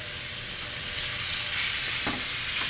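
A steak sears in a hot pan with a loud, continuous, close sizzle and crackle that holds steady throughout, with a few faint knocks near the end and no talking.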